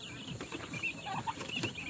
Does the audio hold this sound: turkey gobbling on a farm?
yes